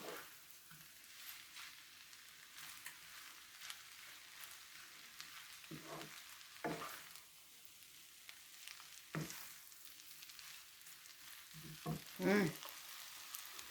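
Fish balls and vegetables stir-fried with soy sauce in a pan give a faint, steady sizzle. Soft scrapes and clacks of a stirring utensil come through, with occasional quiet voices in the background.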